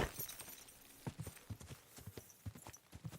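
Horse hooves in Kingdom Come Deliverance 2 clop at a quiet, uneven walking pace, a series of soft thuds repeating roughly every half second.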